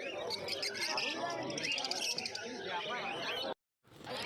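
Pet birds in cages at the Uluberia pet market chirp and coo in a busy overlapping chorus, with human voices talking close over them and a brief cut to silence near the end.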